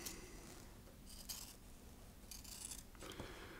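Scissors snipping through foam while shaping a puppet head, a few quiet crisp cuts in bursts over a low steady background hum.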